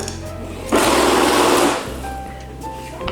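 A banknote counting machine whirs loudly for about a second as it runs a stack of Polish złoty notes with a twenty mixed in, then stops. A low mechanical hum continues before and after.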